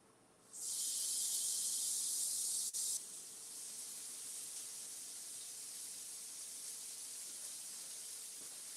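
Shrimp sizzling on a grill, finished with lime juice, give a steady broadband hiss that swells loudly for a couple of seconds and then settles into a continuous, softer sizzle with no talk.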